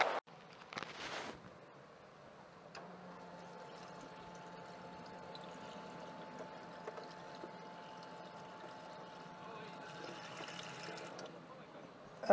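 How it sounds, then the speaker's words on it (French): Freshly picked nettles are rinsed under running water beside a camper van, a faint steady pour and trickle after a few brief clatters, with a low hum underneath. "Allez, les orties, on rince un petit peu,"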